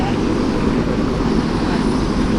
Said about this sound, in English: The jet boat, they build up the speed to 35 knots and then turn sharply